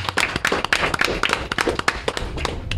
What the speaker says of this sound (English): a ginormous round of applause for you folks for coming out on a fucking Sunday